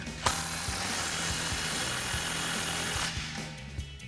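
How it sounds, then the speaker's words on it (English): A ratchet fitted with a 16mm socket tightens an exhaust clamp on a Chevrolet Silverado or GMC Sierra 1500 dual exhaust system, giving quiet, steady rapid clicking that is faint and close. "take a 16mm socket to tighten it down"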